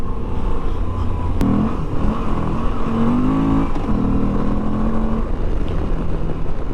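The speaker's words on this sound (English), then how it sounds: "This bike sounds good though," A 2022 Moto Guzzi V85TT motorcycle engine under way on the road, a steady loud drone with wind noise, its pitch rising and falling briefly as the rider works the throttle.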